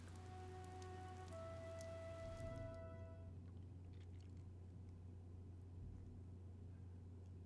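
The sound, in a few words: rain in the video game Fire Emblem: Three Houses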